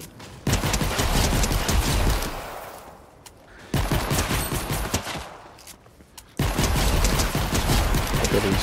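Heavy weapon fire in Fortnite Save the World, three loud sustained bursts of rapid explosive shots separated by brief quieter gaps, each burst starting abruptly and rumbling on for a couple of seconds.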